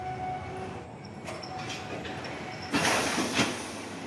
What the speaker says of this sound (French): Ici, on charge 3 à 4 trains par semaine qui vont jusqu'à Duisbourg en Allemagne.